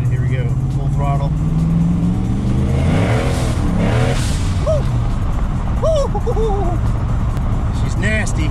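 A turbocharged Ford Mustang Foxbody accelerates at full throttle, a loud close engine roar rising in pitch through the revs and shifting gears, with the driver's voice heard over it.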